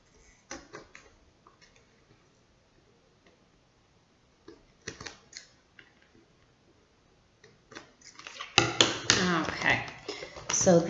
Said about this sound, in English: I'm just carefully taking it off my scissors.